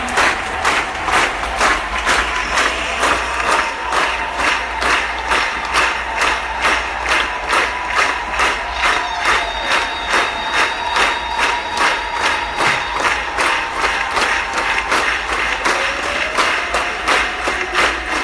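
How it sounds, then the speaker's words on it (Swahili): A church congregation claps in a steady, rhythmic beat with scattered cheering during Bishop Zakary Kakobe's service. The full-room applause is loud and sustained, with no speech over it. "Ongeza makofi mengi kwa kuona mwaka 2023."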